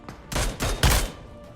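A short burst of gunfire in a PUBG-style battle royale video game: three quick, loud shots in rapid succession with no one talking.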